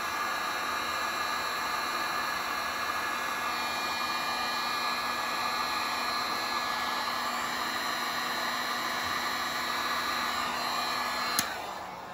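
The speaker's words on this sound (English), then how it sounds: "Now we'll take the heat gun and we'll just heat that right up." Heat gun blowing hot air to shrink heat shrink tubing over car wiring, a loud continuous whooshing roar with a steady whine, unbroken for the whole stretch, with no talking.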